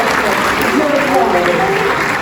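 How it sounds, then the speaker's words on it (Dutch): Audience applause at a Limburg carnival 'Bontje Aovendj' evening, greeting the youth prince, a continuous wash of clapping at steady loudness with some voices mixed in. "Eén keer, nog één keer en een applaus voor hem."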